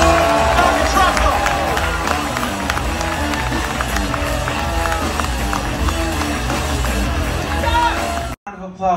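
A packed comedy club crowd at the Comedy Mothership cheers and applauds as a comic takes the stage, a loud, dense roar of clapping and shouting voices that runs on and then cuts off abruptly near the end.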